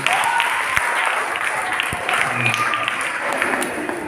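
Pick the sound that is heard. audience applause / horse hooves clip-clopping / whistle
audience applause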